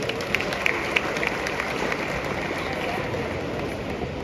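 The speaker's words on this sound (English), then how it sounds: "A round of applause for them." Applause from an audience at an arts and enterprise summit in Ghana, a steady broad wash of clapping lasting several seconds at even loudness, with a few distinct claps near the start.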